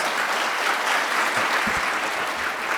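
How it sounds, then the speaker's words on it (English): An audience applauds at a conference on EU-Indonesia bilateral relations, with dense, steady clapping filling the hall for a few seconds, no voices over it. "let's give a big round of applause"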